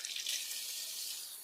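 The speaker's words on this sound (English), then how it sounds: "Also going to get our sink filled with cold water." Cold water runs from a kitchen tap into a filling sink, a steady hissing stream, moderately close and unbroken, with no one talking.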